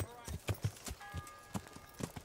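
Horse hooves clip-clop in a steady rhythm of about eight close, distinct strikes in the Kingdom Come: Deliverance video game, with brief spoken voice and faint tonal game music underneath.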